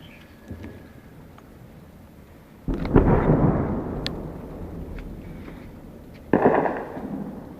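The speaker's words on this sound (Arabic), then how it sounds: "اصوات اطلاق نار في حجر الأسود" Gunfire and shelling over orchards in Hajar al-Aswad, Syria, in August 2012: a faint crack early on, then two loud booming blasts, the first rolling on for several seconds and the second following near the end.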